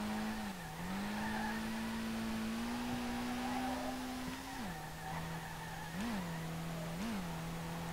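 A worn drift car's engine in Street Legal Racing Redline strains in third gear, droning at a steady held pitch with brief dips and blips as revs waver, tires squealing underneath throughout.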